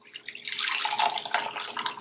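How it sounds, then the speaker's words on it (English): Boiled detox tea is strained straight into a cup. A close, steady splashing pour starts softly and quickly builds into a continuous trickle that lasts about two seconds, with no talking. "we're going to strain this directly into the cup"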